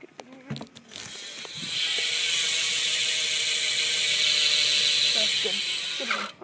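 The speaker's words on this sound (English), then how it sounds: "here's the hub sound," Bicycle rear hub ratchet spinning freely, a steady rapid buzz of pawl clicks lasting several seconds between a few handling knocks and clicks at either end.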